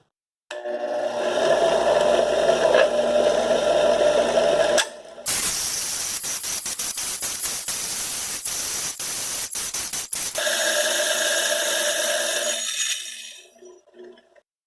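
A bench grinder wheel is dressed flat, giving a steady loud broadband hiss with a rough grinding roar, briefly interrupted, then crackling rapid scraping bursts before settling back into the continuous whine and fading out.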